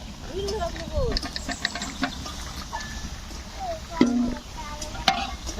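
Chicken curry with cumin powder and potatoes stirred in a pan at an outdoor village picnic, with soft scraping and a faint sizzle running under women's chatter and background voices.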